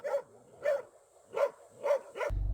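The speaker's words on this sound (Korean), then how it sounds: "주민 한 명이 다가서자 일제히 짖으며 경계합니다." Several roaming village dogs bark together as a resident approaches, five evenly spaced barks at moderate distance with a brief low thump at the end.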